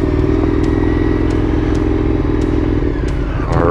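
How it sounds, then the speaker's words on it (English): A 2019 Indian FTR 1200S motorcycle rides through the Oak Ridge, Tennessee area with a loud, steady engine drone and wind rush close to the rider, plus faint periodic clicks and a brief rev near the end. "We're riding my 2019 Indian FTR 1200S."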